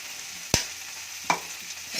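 Ground lentil powder is stirred into a frying pan of broad bean palyamu, with two distinct spoon scrapes against the pan over a faint, steady sizzle.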